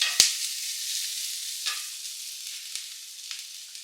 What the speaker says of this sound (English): Now I'm gonna add this ginger and garlic. Let's fry this for literally 2 minutes.